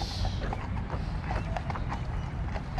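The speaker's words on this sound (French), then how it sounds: "les policiers à cheval dans Hyde Park" Police horses walking through Hyde Park, London, their hooves clip-clopping in a steady rhythm against a constant outdoor wash of background noise.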